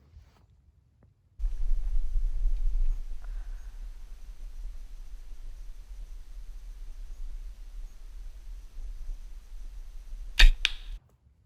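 A low steady rumble runs throughout, then a single sharp thud of an arrow hitting an archery target lands near the end, followed by a brief rattle.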